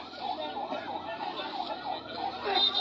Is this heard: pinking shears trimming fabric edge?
no